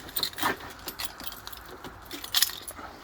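Car keys jangle in short metallic bursts as the ignition of a Peugeot 207cc with a blown ECU is switched on, several close clinks spread unevenly with quiet gaps between them.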